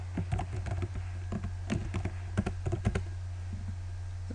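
A snappyHexMesh command is typed on a computer keyboard, a quiet run of irregular key clicks and taps in small bursts over a low steady hum.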